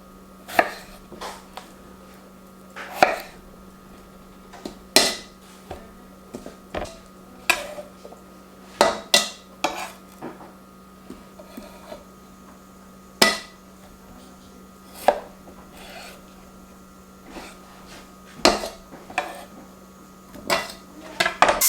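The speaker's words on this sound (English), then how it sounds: "all that's left is to peel the potatoes" Potato peeling for a deer stew: sharp scraping and knife clicks against a hard surface come in scattered, irregular bursts over a low steady hum, close and fairly clear, with no talking.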